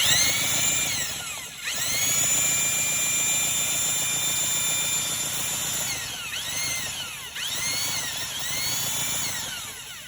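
A Mercury outboard engine runs steadily at idle while its ignition timing is checked with a strobe light, giving a continuous loud mechanical drone with a whining tone that dips and swells a few times.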